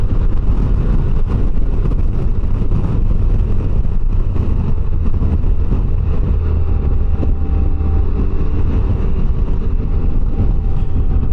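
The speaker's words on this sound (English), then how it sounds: "And this motor, it's fine in the low revs. It's smooth." A 2025 Can-Am Canyon motor running at low revs while being ridden, a steady, loud, even drone and rumble blended with constant wind rush, with no speech.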